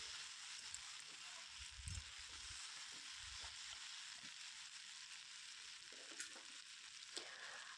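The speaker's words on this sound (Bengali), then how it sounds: "তো আবারও এটাকে আমি ভালো করে নেড়ে চেড়ে নিচ্ছি।" Potato pieces with onion stalks fry quietly in a pan, a soft continuous sizzle broken by a few low scraping thumps of a spatula stirring, faint and fairly close.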